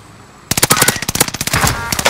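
Video game gunfire erupts after a brief quiet: rapid, loud automatic bursts of shots in quick rhythmic succession, close and dominant, continuing to the end.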